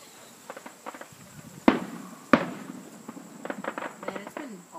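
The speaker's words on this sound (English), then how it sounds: "Have a clear view of this fireworks." Fireworks go off seen from a front porch on a summer night, with two sharp cracking bangs standing out over scattered lighter pops and a background of insects chirping.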